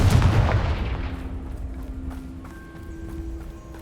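A fiery Confringo spell explosion in Hogwarts Legacy bursts loudly at the start and rumbles away into a fading tail with faint game ambience.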